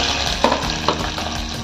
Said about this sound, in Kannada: ಶೇಂಗಾ ಸ್ವಲ್ಪ ಚೆನ್ನಾಗಿ ಹುರ್ಕೊಂಡ್ಮೇಲೆ ಈರುಳ್ಳಿ ಹಾಕ್ಕೊಳ್ಳಿ